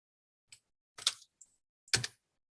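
A few isolated keystrokes on a computer keyboard: a single tap, then a short cluster of clicks, a lone faint tap and a final quick burst, close and crisp against silence.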